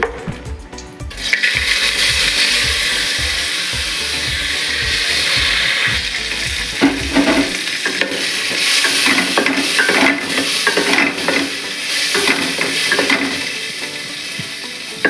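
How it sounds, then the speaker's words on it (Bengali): Cashews and raisins fry in ghee for payesh, giving a close, steady sizzle. Rhythmic scraping and stirring knocks run through the first half, then looser clatters continue under the crackling fat, with no talking. "এই দিকে আমি ঘি দিয়ে একটু কাজু আর কিশমিশটা ভেজে নেব"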